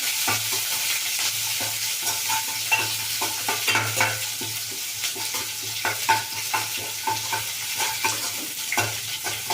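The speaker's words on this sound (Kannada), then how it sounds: "ಈರುಳ್ಳಿ ಹಾಕ್ತಾ ಇದ್ದೀನಿ ಈರುಳ್ಳಿ ಸ್ವಲ್ಪ ಫ್ರೈ ಆಗಲಿ" Onions fry in a pan for a tonde kai (ivy gourd) palya, with a steady close sizzle broken by repeated scrapes and knocks of a stirring spoon, and no voices.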